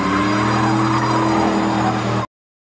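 A stolen car revs hard and tears away in a rush, the loud engine roar and road noise holding close and steady before cutting off abruptly.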